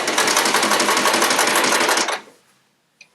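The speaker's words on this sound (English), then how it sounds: "When you're sewing these, just be careful that you don't pull them too much" A sewing machine stitches quilt fabric pieces cut on the bias in a rapid, steady run of close, loud mechanical clatter for about two seconds, then stops and leaves near silence broken by one small click.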